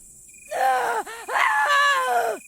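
A person screams inside a cubicle in a horror story, a long wailing cry that rises, breaks off briefly and swells again, loud and close, with a faint high hum behind it.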